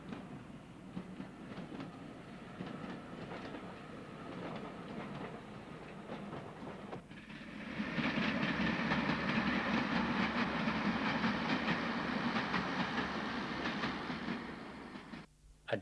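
A diesel multiple unit from Marple passes on a non-electrified line near a junction with old semaphore signals, a steady rumble that swells louder and denser midway through and holds, with no talk.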